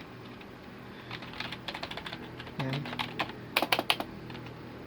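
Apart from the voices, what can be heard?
typing on a Rakk V2 ROY membrane gaming keyboard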